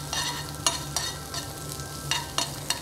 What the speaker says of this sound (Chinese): 可以將頭先切好咗嗰啲橙皮絲咧放去，咁用細火慢慢煎香佢